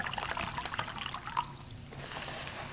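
Water trickles and pours into a small handmade aluminum foil cup outdoors, a light splashing dribble that runs steadily for a few seconds and is heard close up with no talking.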